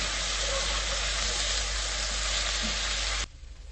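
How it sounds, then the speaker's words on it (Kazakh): Eggplant frying in a pan as sauce is added, a loud, dense, continuous sizzle that cuts off abruptly near the end. "дайын тұрған баклажанды қосып, тағы да 1 минуттай қуырып, үстіне соусымызды құямыз"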